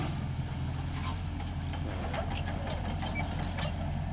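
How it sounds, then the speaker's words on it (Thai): Backhoe excavator engine running while levelling land, a steady low diesel drone with a constant hum and faint clanks, heard somewhat distant and continuous. "วันนี้เรามาดูแมคโคร ปรับที่นะครับ"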